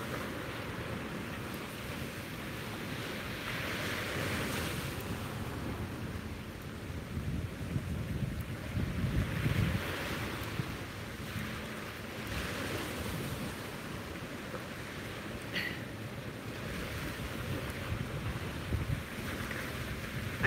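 Ocean waves roll and break on a shore in slow surges, a rumbling wash with wind noise and no talking throughout.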